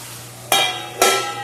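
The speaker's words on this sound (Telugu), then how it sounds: "వేసుకొని అంతా బాగా కలుపుకొని మూత పెట్టేసుకుంటాను" A spoon stirring a tomato and tamarind mixture for chutney in a pan, two bright scraping swishes over a steady sizzling hiss, close by with no talk.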